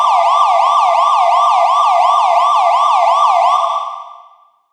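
A synthesizer imitates a police siren with reverb, a loud, rapid, repeating wail that cycles steadily for about four seconds before fading out, with no voices.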